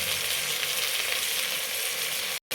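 A fish fries in a pan with a steady, dense sizzle that stays loud and close throughout, breaking off in a brief gap near the end, with no voices.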